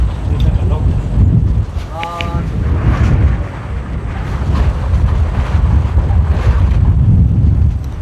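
Strong storm wind roars and buffets the microphone in heavy gusts, a loud, continuous rumble that rises and falls, with voices partly heard beneath it.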